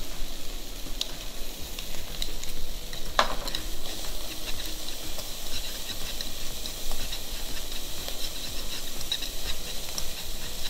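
Shanghai fried noodles stir-fried over high heat, a steady crackling sizzle with scraping stir strokes running throughout, fairly close and continuous, no voices.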